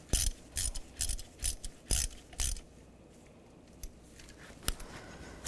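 A ratchet wrench tightens the oil filter housing bolts on a 2011-2015 Chevy Cruze, giving several close, loud bursts of rapid pawl clicking in a regular rhythm. Fainter clicks follow after a pause.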